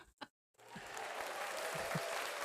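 Canned audience applause for a podcast bit starts abruptly after a short pause and a brief voice, then holds a steady, even clapping wash at a constant level to the end.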